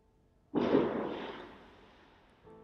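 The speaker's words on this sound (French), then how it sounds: "ils tirent aussi des feux d'artifice. Ils sont très forts aussi" One loud firework boom bursts outside, then rumbles and echoes away slowly into quiet.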